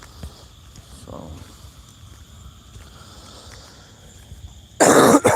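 After several seconds of quiet room noise, one person gives a single loud, close cough right at the end.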